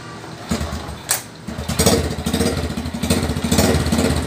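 A Honda Supra 125 motorcycle with a gearbox fault is kick-started after repair and settles into a loud, close, steady idle with a rapid, rough engine rattle.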